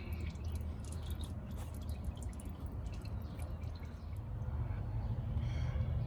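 Engine oil drains from the drain hole of a 2016 Mazda CX-5 into a pan below, making a faint, steady trickling and dripping sound that carries on alone without a break.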